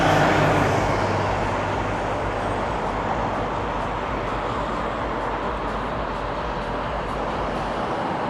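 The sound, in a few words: Dufferin city bus passing in Toronto street traffic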